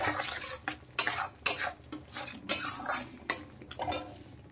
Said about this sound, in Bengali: এই মশলাগুলোকে এখন আমি ভালো করে কষিয়ে নেব